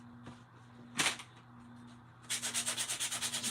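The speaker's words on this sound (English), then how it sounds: "just going to sand the edges a little bit" Sandpaper rubbing the edges of a small craft piece: a couple of brief scrapes, then a run of quick rhythmic back-and-forth strokes, close and fairly loud over a faint hum.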